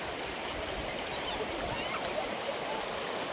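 Floodwater pours steadily into flooded paddy fields at Kalupur village, a continuous broadband rushing wash close by, with a faint voice in the background.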